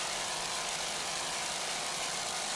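Racing boat engines roar loudly and steadily on Lake Erie, a dense continuous drone with no pauses.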